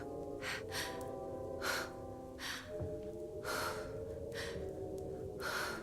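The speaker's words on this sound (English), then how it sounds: "you're breathing awfully hard" A woman practicing Lamaze breathing huffs out quick, heavy breaths in a steady rhythm, about eight sharp exhalations close to the ear, over a soft sustained musical tone.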